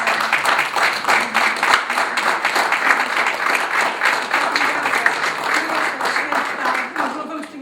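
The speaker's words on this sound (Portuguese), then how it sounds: "Eu queria pedir a todos nós uma salva de palmas para os nossos participantes da mesa redonda." An audience at a literary round-table on poetry and criticism claps steadily for the panel participants, a dense, moderately loud applause holding for several seconds before tapering off at the close.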